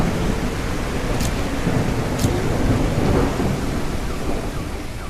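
Heavy rain hisses loudly and constantly in the video game Echoes of Extinction, with rolling thunder underneath and a couple of brief sharp crackles early on.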